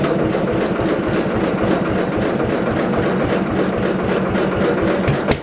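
A Kubota B10 tractor engine cold-starting in frost at about 10 degrees, a steady near, loud diesel chugging with a dense rapid knock that runs evenly throughout, no talk.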